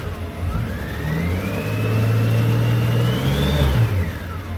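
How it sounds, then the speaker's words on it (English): Radiator cooling fan on a Honda Goldwing GL1800 motorcycle, freshly switched on during a coolant change, whirs steadily up close with a rising, sustained motor drone and a high whine climbing then falling, no talk. "Okay, the fan just kicked in."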